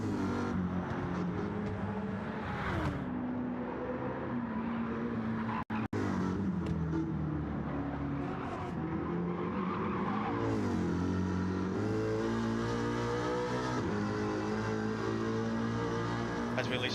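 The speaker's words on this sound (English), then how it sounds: "As we listen to that Mustang roar across the bridge as he comes up to a very heavy braking zone" Ford Mustang V8 Supercar engine in a racing video game at a France street circuit, roaring steadily with rising and falling revs, shifting gears, and a brief cut before heavy braking; commentary voices talk over it.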